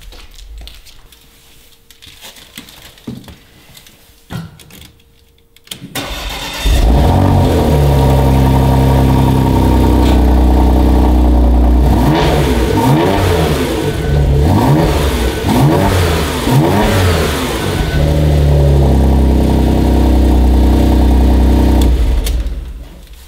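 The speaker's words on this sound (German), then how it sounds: "Liebe ich schon dieses Bummern beim GTS" A Porsche Macan GTS engine starts, then revs hard and loud with deep burbling pulses, rising and falling repeatedly before settling, very close.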